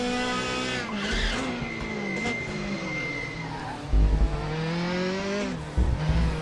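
An Audi TT-R DTM race car in RaceRoom screams through gear changes, its engine pitch climbing and dropping, with tire squeal and a couple of heavy low thumps.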